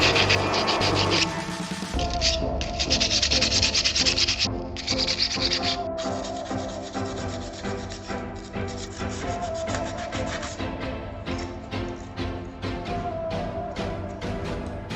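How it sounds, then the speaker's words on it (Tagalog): Sandpaper rasps against a metal shaft in steady back-and-forth strokes while cleaning it after bearing removal, close and continuous with a gritty scraping texture. "Linisin po natin ng liha ang mga shaft."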